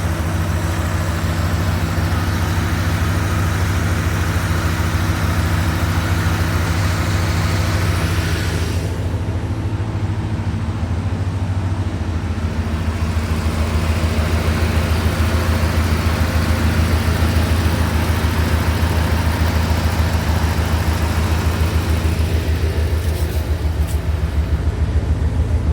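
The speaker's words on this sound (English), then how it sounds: "The 85 Corvette idling." A 1985 Corvette engine idles steadily nearby in a barn, a constant low rumble with no talking over it.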